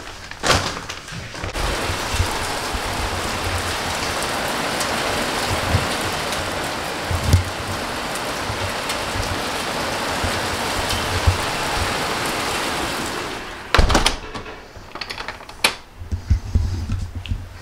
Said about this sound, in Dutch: het begint net te regenen